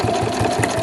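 Sewing machine running steadily while stitching a fabric travel wallet, a close, even mechanical whir with a fast regular pulse, heard alone without voices.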